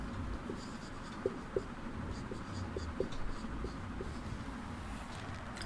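Pen writing an answer by hand on paper, soft scratchy strokes with a few small taps as the pen lifts and lands, faint and continuous under low background hiss.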